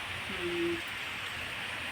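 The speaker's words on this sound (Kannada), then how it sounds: "ಮಳೆ ಬಂತು ಜೋರು ನೋಡಿ ಮಳೆ ಕಾಣ್ತಿರ್ಬೋದು" Heavy rain falls in a steady, dense hiss that fills the whole stretch, with a brief low tonal hum briefly rising above it.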